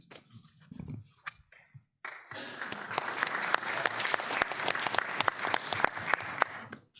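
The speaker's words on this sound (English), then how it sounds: "Another round of applause for our fantastic advocates." Audience applause breaks out after a mock Supreme Court session adjourns, a brief scatter of claps first, then steady, dense clapping across a large room that holds until the end.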